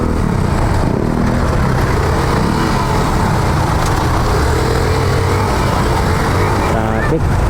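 Busy street traffic in Quiapo, Manila, with dense, continuous engine rumble from cars and motorcycles close by and a crowded roadside din, heard from the road.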